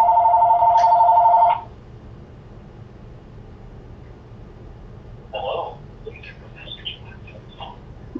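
A mobile phone rings during a podcast recording, its electronic ringtone trilling loudly and steadily for about a second and a half before cutting off, followed by faint background noise and a few quiet murmurs.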